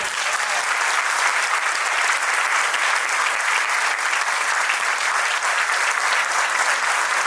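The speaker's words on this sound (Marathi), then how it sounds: "आपल्या सर्वांसाठी सुद्धा एकदा जोरदार टाळ्या होऊ दे." Steady, dense applause from a large audience at a stage performance, sustained evenly throughout without pause, loud and close.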